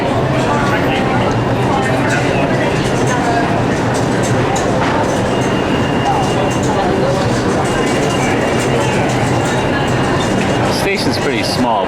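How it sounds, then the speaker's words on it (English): Busy ambience inside an old, small subway station at Grand Central in New York, a steady dense wash of rumble and crowd murmur throughout, with people talking in the background. "We're in the subway station at Grand Central Station."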